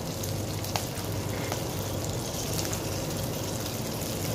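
Shrimp for a seafood paella sizzle steadily in a hot pan, a constant crackling hiss with scattered small pops and no talking.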